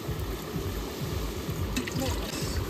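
Water is poured into a pot of meat marinating with salt and milk at an outdoor New Year picnic. A steady, close splashing trickle continues throughout over low background rumble.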